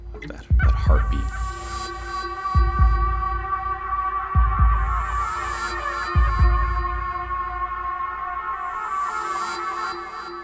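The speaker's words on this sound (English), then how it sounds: "That heartbeat." A deep, thumping heartbeat pulse recurs every couple of seconds in a Future Sound of London electronic track, booming low beneath sustained droning synth tones and echoing textures.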